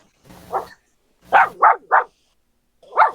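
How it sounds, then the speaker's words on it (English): Dogs bark in a short burst: one bark, then a quick run of three loud, close barks and a final single bark, each sharp and separated by brief silences, with no talk over them. "the dogs are loud"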